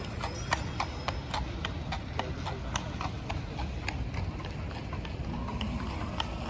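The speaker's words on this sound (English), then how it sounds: "Horse time." Horse hooves clip-clop steadily along a Central Park road in New York City, a regular rhythm of sharp, fairly close hoof strikes over a constant bed of traffic and city noise.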